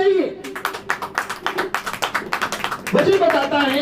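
Church congregation clapping hands together in a steady, even rhythm, a long run of crisp claps at moderate loudness, with a preacher's voice heard briefly at the start and end.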